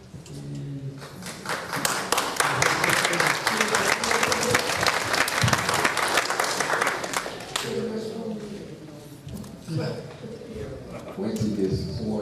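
Applause from attendees at a village board meeting in a hall, a dense clatter of clapping lasting several seconds before thinning out, with voices speaking over the tail end.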